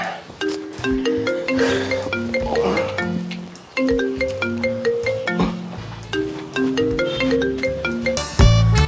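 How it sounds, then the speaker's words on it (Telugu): A looping electronic melody plays steadily for nearly nine seconds as a phone rings while calling a friend, with a brief louder burst near the end. "నేను ఫోన్ చేస్తున్నా వానికి"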